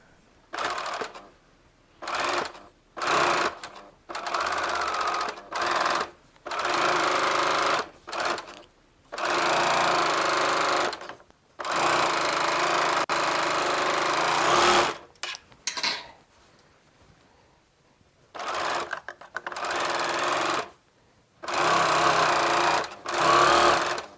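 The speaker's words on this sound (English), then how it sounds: "You do not want to hit pins while serging." An overlock serger runs in repeated bursts while sewing a side seam on a lingerie slip, each fast whirring run lasting a second or more and separated by short pauses, close and loud with no voices.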